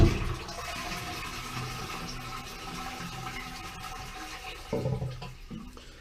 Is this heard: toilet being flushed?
yes